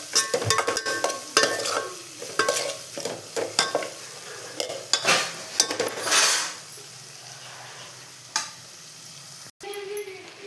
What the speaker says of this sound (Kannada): ಸೊ ನೋಡಿ, ಇದಿಷ್ಟು ಫ್ರೈ ಆಗಿದೆ, ನೀಟಾಗಿ ಫ್ರೈ ಆಗಿದೆ ತರಕಾರಿ ಎಲ್ಲ